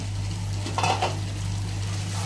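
Chicken perattu, a Kerala-style chicken roast, stirred in a pan with a spoon, soft scraping and clinks over a low steady hum, with a brief louder burst of stirring partway through and no talk.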